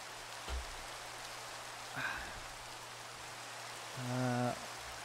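Soft, steady video game rain hisses quietly in the background, broken by a few brief low thumps and a short tonal blip.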